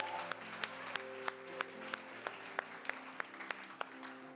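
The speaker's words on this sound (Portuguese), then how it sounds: "Quantos aqui aplaudem de pé o Senhor?" A church congregation applauds alongside sharp, evenly spaced single claps that ring out about three times a second, sitting over sustained musical tones that suggest soft worship music behind them.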